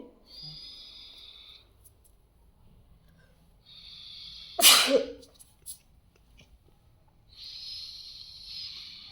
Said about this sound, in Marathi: टायगरला सर्दी झाली वाटतं सर्दी नाही झाली आवाज करतोय